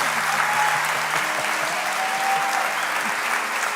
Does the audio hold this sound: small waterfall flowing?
no